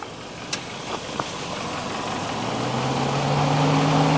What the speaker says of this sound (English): Turn on your car and put it on AC and let it run for a few minutes